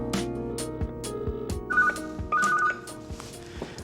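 A telephone in a busy restaurant kitchen gives a few short bursts of ringing among clattering background noise, with no one speaking.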